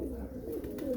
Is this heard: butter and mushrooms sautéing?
no